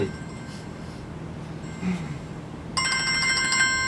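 A mobile phone ringtone starts near the end as a bright, tonal ring that repeats. Before it comes in there is only a quiet indoor room.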